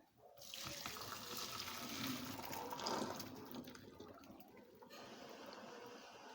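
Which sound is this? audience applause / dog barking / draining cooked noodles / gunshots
draining cooked noodles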